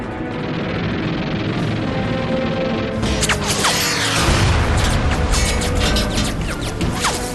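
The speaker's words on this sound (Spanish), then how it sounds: "Los Avengers lanzan sus cohetes sobre el submarino." A loud rumbling blast erupts partway through as aircraft rockets strike a World War II submarine, followed by heavy crashing booms and debris over a steady low drone.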